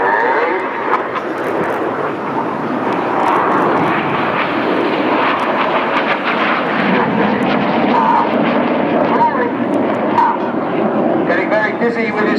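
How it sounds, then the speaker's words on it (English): Red Arrows jets roar steadily overhead during an aerobatic roll display at the 2015 Sunderland Airshow. The engine noise is loud and continuous, with a commentator talking over it throughout. "Now the 5th jet is going to roll around them a dozen times."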